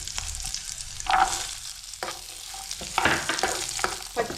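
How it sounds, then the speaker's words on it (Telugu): Raisins and fresh coconut pieces fry in a pan, a close crackling sizzle broken by several distinct stirring scrapes at irregular intervals, with no voice. "కిస్మిస్, కొంచెం కొబ్బరి ముక్కలు కూడా కొంచెం వేపుదాం"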